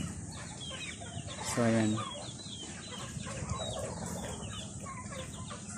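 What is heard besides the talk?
chickens clucking while being fed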